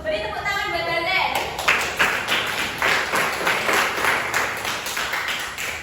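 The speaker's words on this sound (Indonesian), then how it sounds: "beri tepuk tangan buat Hasan." Students in a classroom clap together, a run of loud, rhythmic claps in a steady beat following a brief spoken moment at the start.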